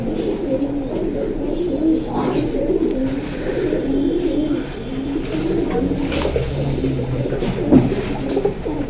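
Male pigeon cooing repeatedly in low, throaty, rolling phrases, steady and fairly close, with other birds and faint voices in the background.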